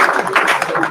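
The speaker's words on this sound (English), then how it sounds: "another round of applause for our presidential candidate" Dense, steady applause for a presidential candidate at a press conference after the 2023 Nigerian presidential elections, many hands clapping at once, a continuous crackling wash of sound throughout.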